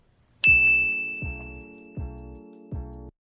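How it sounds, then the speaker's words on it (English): Four bright chiming bell tones ring out in a slow even sequence, the first loudest with a lingering high ring. "Notification bell?"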